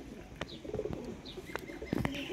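A pair of rare Ferozpuri breeder pigeons coos softly at close range, with a few short chirps and light rustling between the calls.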